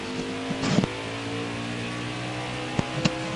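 A race car engine in a stock-car racing game at Atlanta holds a steady, droning tone with a few sharp clunks and pops, loud and close, with no one speaking.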